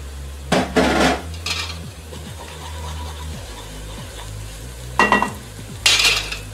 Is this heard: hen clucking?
no